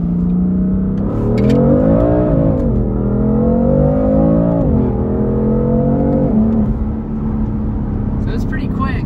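A BMW F80 M3 and a Ford Mustang 5.0 accelerate hard side by side in a roll race, loud engine roar heard from inside the car climbing in pitch through the gears with brief dips at shifts.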